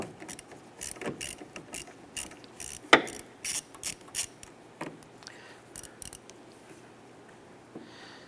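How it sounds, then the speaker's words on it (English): A 10mm socket wrench with an extension ratchets loose the negative battery terminal nut on a 2015-2020 Cadillac Escalade, giving bursts of close, sharp clicking with short pauses between them and no talk. "Using a 10mm socket and extension, we're going to loosen the nut on our negative terminal on the battery."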